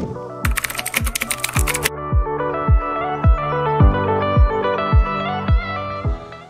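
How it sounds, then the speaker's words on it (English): Typing on a computer keyboard inside a Transit camper van, a burst of quick keystrokes at the start under a steady, loud musical backing that carries on throughout. "Oh, keyboard."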